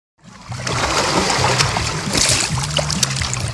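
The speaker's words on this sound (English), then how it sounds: "Oh my God, I keep getting splashed." Water splashes and sprays against a small boat heading out to an island, a steady loud wash of churning water with intermittent sharp splashes throughout, close by.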